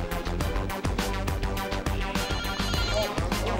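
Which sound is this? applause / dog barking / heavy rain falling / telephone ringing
telephone ringing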